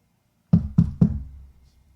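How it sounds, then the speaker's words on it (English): Three firm knocks on a door land in quick, even succession, close and loud against silence, then fade out. "A knock on the door."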